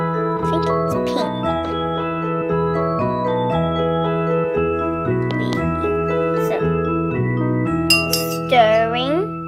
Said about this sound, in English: Stirring